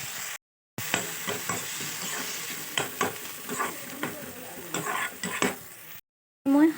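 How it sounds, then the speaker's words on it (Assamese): Greens with red lentils, salt and turmeric stirred and fried in a pan, with a steady sizzle and repeated scraping strokes of a spoon, close and moderately loud. "এয়া অকণমান সময় ভাজিম"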